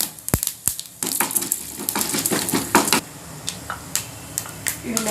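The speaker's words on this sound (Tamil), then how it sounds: "ஆயில் ஊற்றி ஆயில் காஞ்சிருச்சு. கடுகு போட்டுக்குவோம்." Mustard seeds and chana dal crackling in hot oil for a tempering, with sharp pops and utensil clinks over a light sizzle, close by.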